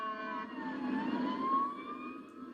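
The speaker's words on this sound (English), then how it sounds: "Sirens sounded again in Litchfield tonight." Fire engine sirens wail in Litchfield with several overlapping rising and falling tones, loud and fairly close, blended with a low vehicle rumble.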